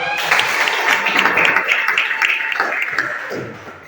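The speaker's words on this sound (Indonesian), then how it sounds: "berikan tepuk" Classroom applause from students, a lively burst of quick hand claps that fills the room and gradually thins out, with a few voices audible among the claps.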